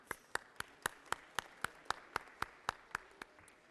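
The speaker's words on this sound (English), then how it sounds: "If you give them a big round of applause," Slow, evenly spaced single handclaps in the Georgia Senate chamber, about fifteen sharp claps in a steady rhythm, fairly close and distinct over a quiet room.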